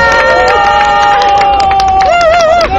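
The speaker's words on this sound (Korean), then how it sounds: "여러분들이 환호해 주셔서 너무 고맙습니다" Crowd at a political rally cheering and shouting, loud and close, with voices rising in a sustained wave of whoops and calls.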